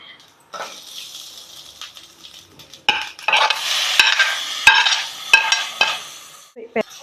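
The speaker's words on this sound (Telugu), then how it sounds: "కాసేపు ఇలా వేయించుకుందండి. టమాటాలు బాగా వేగాలి, పచ్చివాసన పోవాలిగా." Tomatoes fry in a pan for paneer bhurji, with stirring scrapes and clatters over a soft sizzle that grows louder and busier in the second half, ending in a few sharp knocks.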